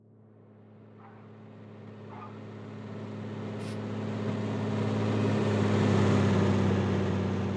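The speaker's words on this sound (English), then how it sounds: "we've now got the little squeaky noise of the car going over the zebra crossing and the car engine both running through Doppler" A car engine drones steadily as the car approaches over a zebra crossing, its hum swelling louder toward the end under a smooth Doppler-processed sound design, with a faint brief squeak near the middle.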